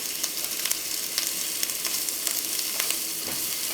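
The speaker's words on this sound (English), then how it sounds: "oil/butter mix cook the onion until the onion turns translucent" One large finely diced onion sizzles steadily in a hot oil and butter mix for shrimp scampi, with a close, bright hiss and small crackling pops. No one speaks.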